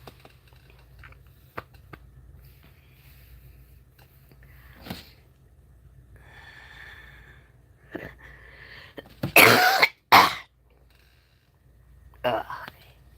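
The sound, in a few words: cough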